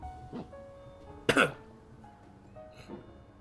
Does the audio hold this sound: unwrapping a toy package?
no